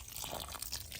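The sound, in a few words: pouring fertilized water onto seedling soil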